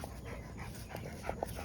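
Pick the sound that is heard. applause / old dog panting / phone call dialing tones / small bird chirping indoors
old dog panting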